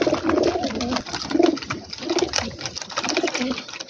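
Pigeons coo repeatedly in soft, throaty rolling phrases close by over a busy background of scratchy rustling and fluttering. No one speaks.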